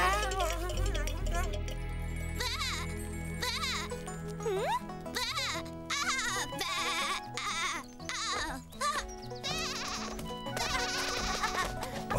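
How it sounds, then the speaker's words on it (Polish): Several sheep bleat repeatedly in wavering cries over a steady musical background, with voices mixed in; the bleats come close and fairly loud. "W pobliżu pasą się owce."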